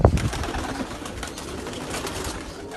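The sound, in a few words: birds cooing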